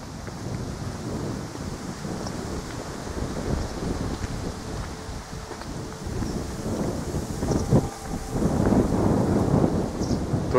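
Strong warm wind roars and buffets the microphone in continuous gusts at a large abandoned outdoor pool in a forest, with a deep rumble that swells louder toward the end.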